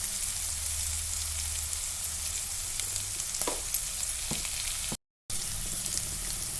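Green peas roasting in a pan for chutney, a soft continuous sizzle with a couple of brief stirring scrapes, close and quiet, with a short dropout near the end.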